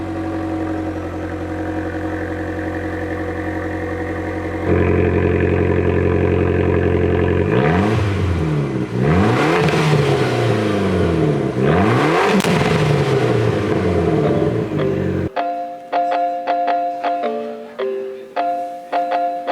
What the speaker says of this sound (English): It's got a little sport button and it opens the valves on the exhaust and it makes a louder noise.